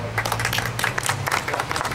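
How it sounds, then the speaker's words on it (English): Audience applause for Ralph Kennedy of House District 39 at a Lexington County Republican Party campaign office opening, a steady patter of clapping from a modest indoor crowd lasting throughout with a low hum beneath. "Ralph, give Ralph round of applause."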